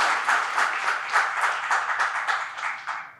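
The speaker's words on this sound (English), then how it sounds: "A round of applause to Mr. Dmitry." Conference audience applauding, a dense burst of many hands clapping at moderate distance that holds steady for a few seconds before cutting off.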